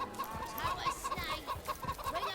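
Several roosters in Divinity: Original Sin cluck in quick irregular bursts, close and clear over soft background game ambience, with no speech.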